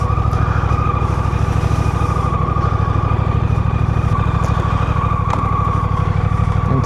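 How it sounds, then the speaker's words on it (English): Steady engine of a Honda Rebel CMX 1100 motorcycle, the 1100cc twin shared with the Africa Twin, running loud and close in standard mode, a continuous deep pulsing throb with no talk. "1100cc, same engine as the Africa Twin."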